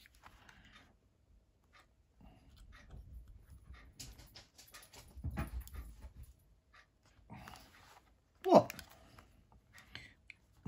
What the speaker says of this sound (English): My little dog's just come running out to see what's going on.